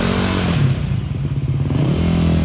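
A motorcycle engine holds steady throttle through a slow drift U-turn, its rough close-up drone wavering and dipping mid-turn before settling again, with some scraping clatter.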